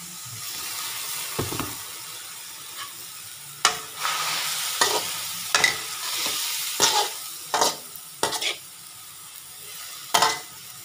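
Vegetables stir-frying in a pan as a little water goes in, a soft ongoing sizzle broken by several sharp scraping stirs and splashy bursts spaced a second or two apart, with no voices.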